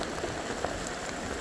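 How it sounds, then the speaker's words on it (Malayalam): Rainwater rushes down steep stone steps beside the Akashaganga waterfalls in the Kolli Hills, Tamil Nadu: a continuous, even wash of close splashing with no pauses. "മഴ പെയ്ത് മുകളിൽ നിന്ന് താഴോട്ടൊഴുകുന്ന വെള്ളം കൂടുതൽ ശക്തിയാർജിച്ചു"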